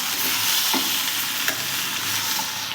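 Chopped brinjal and tomato fry in oil in a pan with a dense, steady sizzle, close and loud, broken by a few scraping stirs of a spoon; no one speaks.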